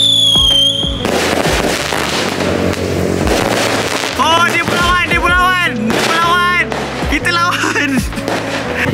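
Mercon Merdeka battery firecrackers set off during a Hari Raya celebration, a rapid run of loud, close bangs and crackling bursts with whistling shots in the middle, while people shout and talk over them.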